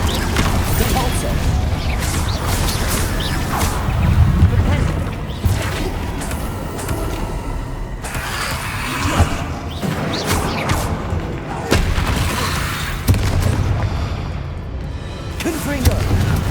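Repulsor spell blasts during a Hogwarts Legacy battle: several booming, crashing impacts land at intervals over a continuous bed of dense combat noise.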